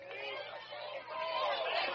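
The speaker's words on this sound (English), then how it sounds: "Crowd getting on the umpire" Baseball crowd at a ballgame murmuring and calling out at the umpire, a faint, distant babble of many voices with no clear single shout.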